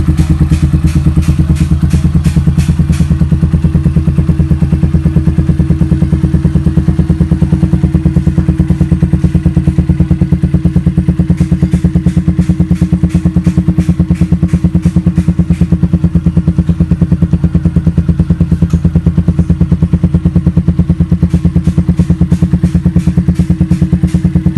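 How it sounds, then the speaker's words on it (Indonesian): A Benelli Motobi 152 motorcycle fitted with a custom exhaust runs steadily at idle, a loud, deep, bassy engine note with a constant throb that continues unbroken and without talk. "Jadi knalpot ini suaranya ngebas ya"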